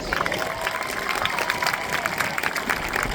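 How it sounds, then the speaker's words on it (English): A crowd claps steadily and continuously, a dense, even patter of applause with faint cheering mixed in, moderately loud throughout. "Please give a round of applause for both Layla and James."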